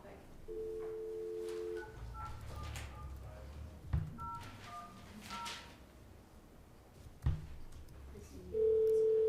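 A cell phone call being dialed at a town council meeting, with short steady keypad tones in a few bursts, a couple of louder clunks, and a sustained tone at the end, over faint room noise.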